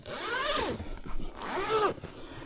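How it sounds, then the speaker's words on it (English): A zipper on a fabric back seat extender for dogs is pulled open in two sweeping strokes, close and clear, with a short pause between them. "This zipper's a little different"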